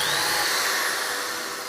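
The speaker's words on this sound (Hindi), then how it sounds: "अब आइए लास्ट और तीसरा वाले का अंतिम ड्रिल करके फिनिश करते हैं" Electric drill boring a hole in a homemade electric room heater, a continuous high whirring motor whine that holds steady and fades slightly, with no talk.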